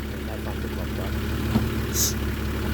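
A Nissan 4WD engine runs at a steady, rumbling idle-like drone on a Cape York outback trip, continuous and close, with a brief higher-pitched noise near the end.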